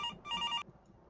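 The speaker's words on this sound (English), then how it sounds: "Okay, phone's ringing again here." An electronic telephone rings in the horror video game Fear in the Modern House: two quick trilling bursts, the second longer, then the ringing cuts off into near quiet.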